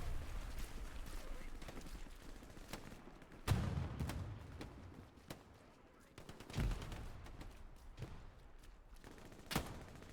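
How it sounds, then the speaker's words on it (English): Grenades burst in Hell Let Loose during a battle at Foy, several heavy thumping blasts spaced apart amid distant gunfire and battlefield rumble, with someone commentating over it. "Grenades are gonna go out here over the house."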